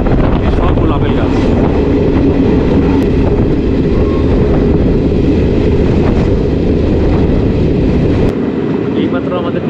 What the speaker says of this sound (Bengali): এইমাত্র আমাদের ট্রেন এসে পৌঁছলো অনন্তনাগ স্টেশন।